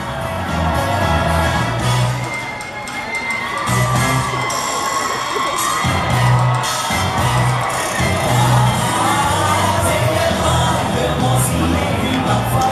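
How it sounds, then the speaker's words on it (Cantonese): Audience cheering and applauding at a company award stage ceremony, a loud sustained crowd roar with shouts and whoops running throughout. "再一次熱烈嘅掌聲！"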